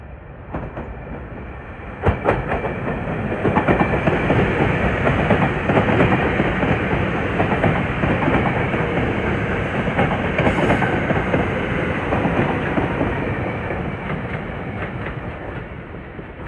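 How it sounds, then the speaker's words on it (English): A SEPTA passenger train rumbles steadily through Wayne Junction station at close range without stopping, broadband wheel and car noise with faint clickety-clack, loud and sustained for the whole stretch. "here comes train 5330 from Malvern to West Trenton, New Jersey"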